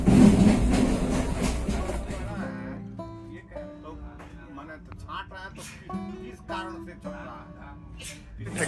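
A passenger train rolls along its tracks on a journey toward Delhi, with a steady rumbling wash at first that gives way to quieter carriage sounds while people talk nearby.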